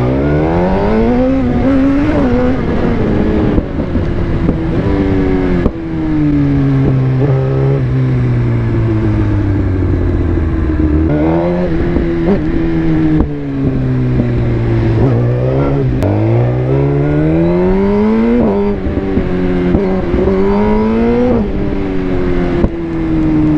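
Suzuki GSX-R 1000 R 2020 sportbike, remapped to 212 hp, roaring loud and close while ridden, its engine note climbing and dropping through repeated rev sweeps and gear changes for the whole stretch.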